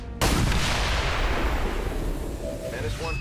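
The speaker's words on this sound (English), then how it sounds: "You can shoot the thing with your pistol." Gunfire in XCOM 2: War of the Chosen, a single loud pistol-type shot bursting in with a long rolling decay, close and dominant with game effects trailing at the end.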